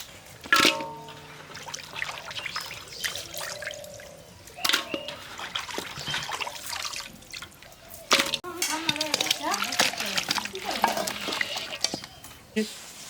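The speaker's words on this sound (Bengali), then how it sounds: "মাছ ধুয়ে নেব মাছগুলা ধুয়ে নেব বিশাল বড় বড় মাছের মাথা" Large fish heads are rinsed in water, giving soft, scattered splashes and drips at a low level, with occasional clatter and voices in the background.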